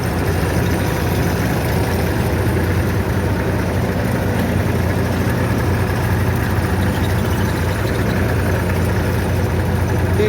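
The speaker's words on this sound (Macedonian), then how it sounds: "ово е трактор, знаеш, железо" An IMT 533 tractor engine idles steadily outdoors during a mowing day, a continuous low diesel rumble with even vibration and no variation in pace, running alone for about ten seconds.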